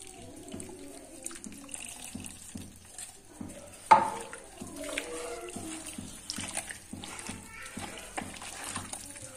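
Raw chicken being mixed with garlic water, crushed desi red chili and amchur powder gives wet squelching and sloshing in short uneven bursts, with one sharp knock partway through and some speech nearby.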